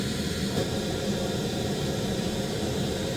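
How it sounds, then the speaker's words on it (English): Steady, loud broadband pink noise plays through a home speaker system with room correction switched off, a continuous even hiss with no talk. "You can play pink noise."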